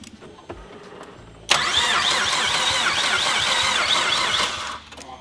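A car engine cranks over while the throttle is pumped, a loud rhythmic whirring starter grind lasting about three seconds without catching, preceded by quieter clicks.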